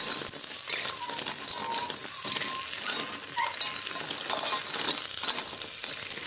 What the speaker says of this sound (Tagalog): Gisahin lang natin yan ng mga 4 na minuto.